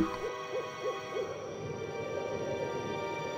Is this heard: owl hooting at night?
yes